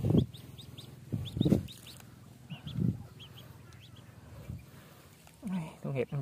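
A duck used as live bait for snakehead fishing in a rural field gives a run of throaty, clucking quacks in uneven bursts, close by, with a person talking at times.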